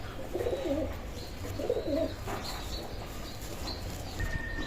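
A pair of Oman bloodline teddy pigeons coo in low, soft, repeated phrases, two bursts close together, over a steady background hum.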